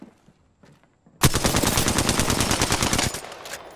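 Automatic gunfire in Apex Legends bursts in suddenly after near quiet, a loud rapid stream of close shots lasting over two seconds before trailing off.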